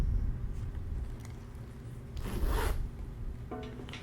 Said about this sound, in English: Here is the zipper. It's in that same antique brass finish.